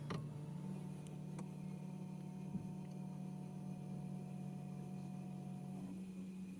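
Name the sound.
new water pump running in BMW i3 electric car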